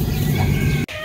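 A flock of chickens clucks steadily at feeding time on a Vietnamese farm where andrographis herb is prepared as feed medicine, a dense close chatter broken by one brief dropout near the end.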